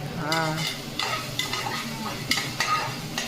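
Chicken liver for a spicy pepper fry sautés in a pan, giving a steady close sizzle broken by several sharp scraping bursts from a spoon stirring through the pieces.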